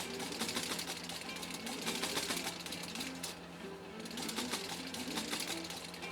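A 1953 Singer 15-91 sewing machine stitching steadily at a quick pace, its continuous mechanical whir and rapid needle clatter close and dominant throughout.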